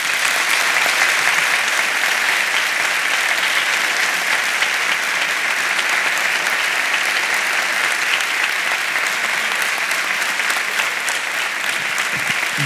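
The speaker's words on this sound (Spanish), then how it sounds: "os pido un aplauso para ellos" An audience at a Spanish congress tribute bursts into sustained applause, loud, dense and even from start to finish with no break, the clapping of many hands filling the hall without any voice on top.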